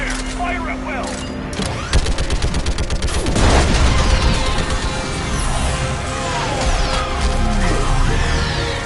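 Sustained gunfire in the video game Mass Effect 3, rapid overlapping shots and bursts building into a loud fusillade with explosive booms, while voices speak over the combat.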